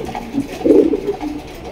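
A pair of kaka pigeons on a pigeon farm give soft, low cooing calls, swelling to a fuller coo midway through, close by with no talking.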